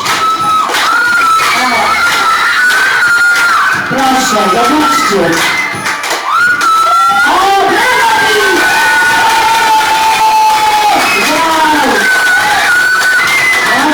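Children at a kindergarten sports competition cheer, shout and squeal loudly in a dense, continuous crowd roar, with an adult voice briefly speaking over the din.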